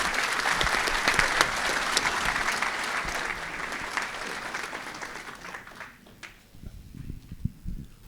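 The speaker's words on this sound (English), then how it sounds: "Round of applause there, please." A meeting crowd in a hotel applauds a speaker, sustained clapping that fades out after about six seconds, followed by a few scattered claps and footsteps.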